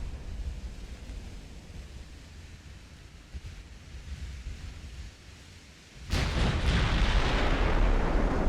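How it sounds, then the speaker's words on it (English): 9-inch naval guns firing in Ultimate Admiral: Dreadnoughts, a single loud, heavy blast that breaks abruptly out of a low rumbling sea ambience and rolls on afterward. "Very accurate 9-inch fire."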